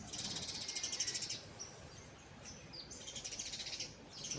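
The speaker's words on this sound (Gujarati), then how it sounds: "જો હું ત્યાંથી હટી ગયો ને એટલે આવી ગઈ ચકલી" A sparrow chirps in quick repeated bursts outdoors, fairly close and clear, with short pauses between runs of calls and no voices.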